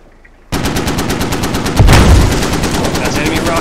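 Rapid automatic gunfire from the military shooter game Squad erupts loudly and keeps up a dense, continuous burst with heavier blasts mixed in, after a brief quiet start.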